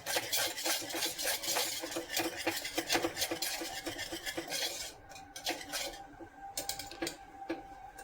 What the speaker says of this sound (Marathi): आता आपण ह्याला एकदा छानशी अशी ढवळून घेणार आहोत